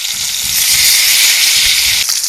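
Pieces of silver carp fry in hot oil after being flipped, making a loud, continuous hiss and sizzle close by with no voices.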